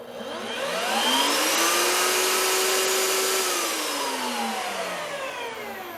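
A Skil 10 amp router spins up in a router table and runs alone, loud and steady, with a rising whine that holds and then winds down toward the end, with no dust collection connected.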